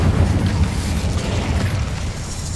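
Hogwarts Legacy Incendio fire spell cast in a spider fight: a continuous dense roaring whoosh of flame with heavy low rumble, steady and loud throughout, no talk.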